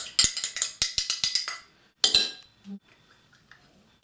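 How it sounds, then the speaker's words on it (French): Spoon clinks and scrapes in a bowl while apple, avocado, lemon and fromage blanc are mixed: a quick run of sharp, close taps, a pause, then a few more clinks and soft scraping. "Je mélange bien."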